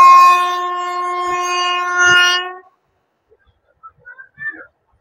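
The Falaknuma Express from Hyderabad sounds a loud, sustained horn that holds for about two and a half seconds and then cuts off, leaving near silence with a few faint, distant knocks.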